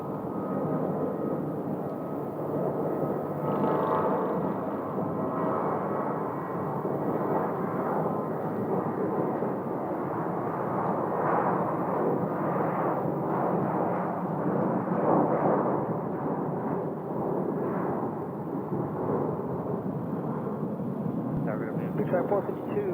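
A passenger jet taking off from a runway at Phoenix Sky Harbor Airport, a loud, continuous roar of jet engines that holds steady throughout, with faint talk beneath it.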